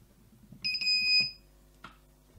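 An iGET M2B GSM alarm system sounds a short, loud, piercing electronic siren tone for under a second in a quiet room, followed by a brief click.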